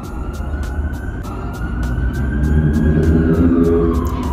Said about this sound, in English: because at this time of night, I swear, there is sirens every time